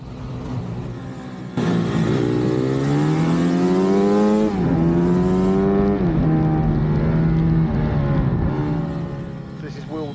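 A Honda CRF150 pit bike racing at Kinsham Raceway during a February practice session, its engine loud and close, revving up through repeated rising sweeps and gear changes for several seconds before easing off.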